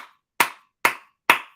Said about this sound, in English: Gives yourselves a round of applause.